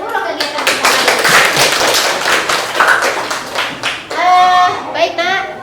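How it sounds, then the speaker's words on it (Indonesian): A school class of students claps together, a loud, quick patter of many hands that continues for several seconds with voices mixed in and some children calling out near the end. "kita tepuk tangan untuk seluruh kegiatan kita hari ini"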